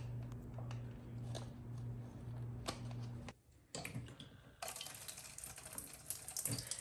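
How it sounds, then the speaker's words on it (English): A small pump-driven fountain in a homemade hummingbird bird bath shoots water too high under strong pressure. A low hum gives way to quiet splashing and spraying, with close intermittent spatters. "the water pressure was too strong, and the water shoots too high,"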